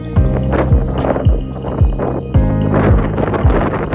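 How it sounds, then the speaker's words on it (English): Strong wind on a pier comes in heavy, repeated gusts that buffet the microphone with loud low thumps and roaring bursts. No one speaks. "We are braving the wind."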